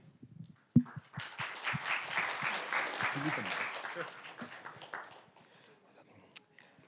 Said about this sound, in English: No, you definitely don't need to clap for me.